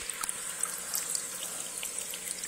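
Water splashes and trickles steadily from a garden fountain, a pink fountain basin holding fish, heard close and continuous with a bright, hissing spatter and no talking.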